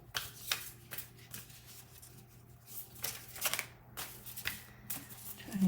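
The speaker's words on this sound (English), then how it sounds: "Trying to get a little sloppier in my shuffling" Tarot cards being shuffled by hand, a series of crisp riffling bursts with short pauses between them, close and fairly loud, with faint low room hum underneath.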